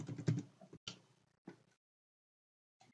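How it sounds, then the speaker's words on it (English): A password typed on a keyboard: a quick burst of close, soft key taps in the first moment or so, then near silence with one last faint tap at the end. "So when I type the password"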